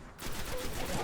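A grenade goes off in the Destiny video game amid combat, a dense rumbling blast with rapid crackling, gunfire-like bursts close up and loud.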